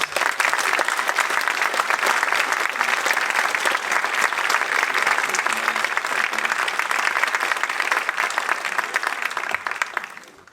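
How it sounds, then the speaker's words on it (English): An audience gives conductor David Jones a round of applause: dense, even clapping that holds steady for about ten seconds before easing off at the end. "Ladies and gents, round of applause for Mr. David Jones"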